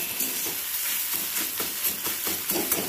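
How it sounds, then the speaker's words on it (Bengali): Beaten eggs with spring onion fry in a pan, giving a continuous close sizzle with scraping stirs as they brown. No one speaks. "লাল করে ভেজে নেব"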